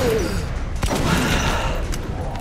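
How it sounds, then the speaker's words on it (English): A shotgun blast in the video game Metro: Last Light, one sharp shot standing out from a dense, noisy combat mix. "How you like that shotgun bullet, huh?"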